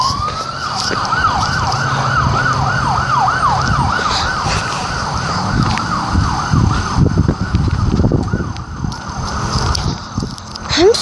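A police car siren wails in a rapid, repeating rising-and-falling pattern, loud and close at first, then fading as traffic noise rumbles underneath.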